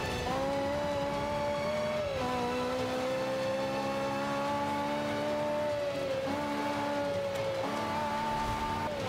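Racing car engines, Ferraris in the video game Forza Motorsport 5, hold a steady loud tone that shifts pitch at gear changes around the two-, six- and eight-second marks, with no talk.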